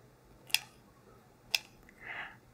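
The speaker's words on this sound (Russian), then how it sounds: "Обрезаю." Scissors snip jute yarn twice, each cut a sharp, close click about a second apart, followed by a soft brief rustle in a quiet room.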